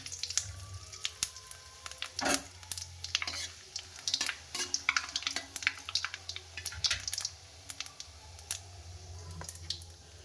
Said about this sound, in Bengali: কড়াইটা বসিয়ে দিয়েছি, গরম হয়ে গেছে। শুকনো লঙ্কা, 5 ফোড়ন, কয়েকটা তেজপাতা দিয়ে দিলাম।